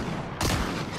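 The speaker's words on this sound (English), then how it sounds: "I'm gonna shoot him in the air." Gunfire in the Fortnite video game: a single loud burst of shots cracks out partway through, followed by a sustained rumbling tail over steady background noise.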